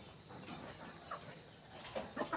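Native chickens kept for sale cluck softly in a few brief, faint calls over quiet background noise, heard from a short distance.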